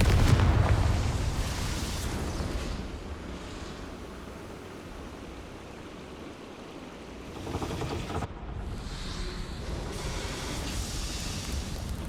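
A Confringo blast spell cast in Hogwarts Legacy: a loud booming burst at the start rolls into a broad rumbling roar that fades to a low hiss, then another surge of crackling noise follows.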